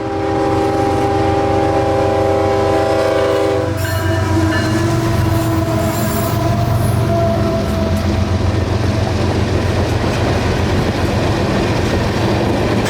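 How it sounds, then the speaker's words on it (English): Freight train Q452 rolls out of the 10th Street siding, its horn sounding loudly at first before giving way to a continuous rumble and clatter of wheels on rails as it gathers pace nearby. "Q452 is out of the 10th Street siding and rolling"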